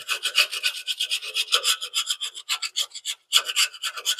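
A hand scraper rasps undercoating off the underside of a 1988 Ford Ranger truck in quick repeated strokes, a scratchy rhythmic scraping with a brief pause, close with no talk.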